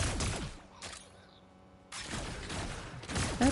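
Gunfire in the Fortnite Zero Build battle royale, loud bursts of shots at the start and again in the last second and a half, with a quieter gap between.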